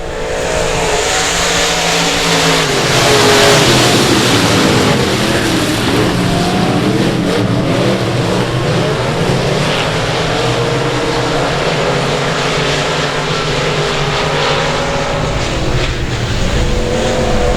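Race cars roar past at South Texas Speedway, several engines loud and close together with revving, shifting pitches sustained throughout.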